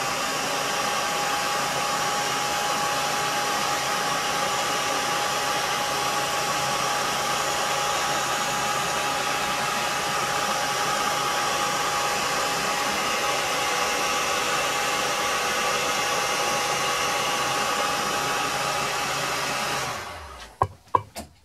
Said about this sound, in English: I'm going to try heating it up a little bit with a heat gun